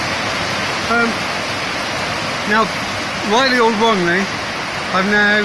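Heavy rain pours down steadily in a constant broadband wash, loud and close in wet UK weather while work goes on under the bonnet of a 2005 Hummer H2, with someone talking intermittently over it.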